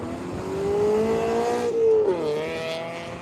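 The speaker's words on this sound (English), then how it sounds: "Winding that FRS up." A Subaru FRS-style sports car, the FRS, winds its engine up with a rising rev that climbs steadily, peaks, then drops sharply before settling, loud and close over outdoor rumble with no talk.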